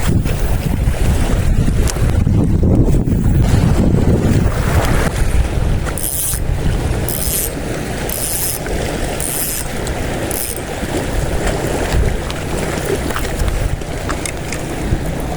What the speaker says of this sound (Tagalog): Kaso ang lakas ng hangin.